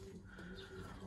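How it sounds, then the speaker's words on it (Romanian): Homing pigeons coo nearby in soft, low, repeated calls that hum steadily through a quiet loft. "Astăzi o să vă prezint porumbeii mei noi la achiziții, puii care au mai crescut. Aici avem o pereche de voiajori."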